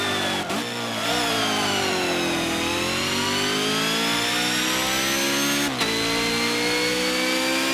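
A Polaris RZR 1000 engine revs steadily in Forza Motorsport 7, rising in pitch, dipping briefly, then climbing again with a couple of sharp shifts, loud and continuous with no talk.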